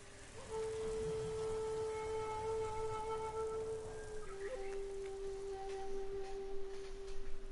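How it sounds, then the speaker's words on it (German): Steady rain in Ghost of Tsushima falls as a continuous soft hiss at low level, with a faint sustained tonal sound running over it and no voices. "ich mag nicht, wenn es regnet"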